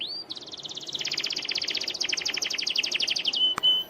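A canary sings close by, a clear rapid trill of bright repeated notes running for several seconds before ending in a short chirp.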